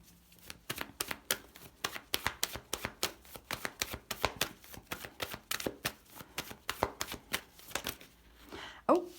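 Oracle cards being shuffled by hand: a long run of rapid, crisp riffling slaps in a steady rhythm, close and fairly loud, with no talking over them.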